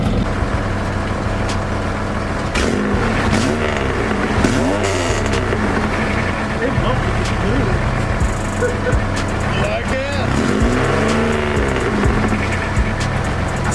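A V6 fourth-generation Camaro with a newly installed exhaust revs up in several raspy, aggressive bursts over a loud idle, close by, while people talk nearby.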